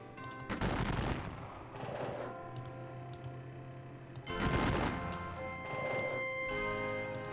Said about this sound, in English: this Georgian regiment of Thomas will continue to just exchange some gunfire